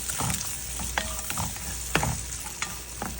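Chopped onion, garlic and chilies sizzle loudly in oil while a spatula scrapes and knocks against the pan in irregular strokes, close to the mic with no voices.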